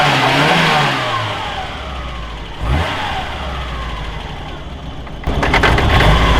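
An Opel Corsa rally car's engine revs loudly and close by, rising and falling in pitch, with a brief dip midway before a harsh burst of revving at the end.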